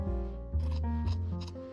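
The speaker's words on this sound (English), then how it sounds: "we're just going to take our scissors and we're just going to cut down to about 5 millimeters" Scissors cut close up through a fabric seam allowance on a flat fell seam, giving a few short crisp snips and slides of the blades with no voices.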